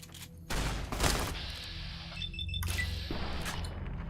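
Gunfire in Fallout: New Vegas, a couple of loud bursts of shots with a sharp crack near the one-second mark, followed by a steadier stretch of noisy combat sound.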